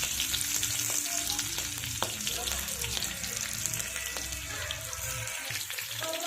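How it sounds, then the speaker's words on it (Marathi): Garlic cloves, long-cut green chillies and curry leaves sizzling in hot oil as a tempering for curd kadhi, a dense crackling fry close by with stirring throughout. "फोडणी छान होऊ देणार आहोत"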